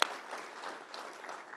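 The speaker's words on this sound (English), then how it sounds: "Let's give them a round of applause" Brief, fairly faint applause from a group, a soft wash of clapping with one sharper clap at the start and no talking.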